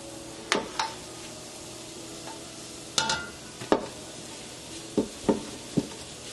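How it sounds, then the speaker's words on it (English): A salmon mixture fries in hot grease in a pan, a steady close sizzle broken by several sharp scraping knocks as it is stirred and chopped. "once your grease is hot, then you add your"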